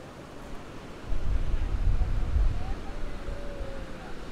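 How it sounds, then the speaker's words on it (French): Huge ocean waves break on a Costa Rica beach, a deep surging rumble that swells and then eases back, with wind buffeting the microphone and a voice heard faintly. "Les vagues sont énormes, mais vraiment énormes"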